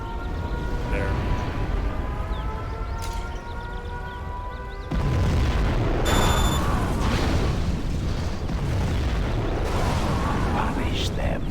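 A nuclear missile detonates in a video game, a sudden loud, sustained rumbling blast that swells and roars for several seconds over a steady game soundtrack.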